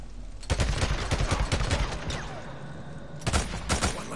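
Rapid gunfire bursts in a sniper ambush in Days Gone, loud and close, a long rattling volley followed by a brief lull and a second burst, no talk.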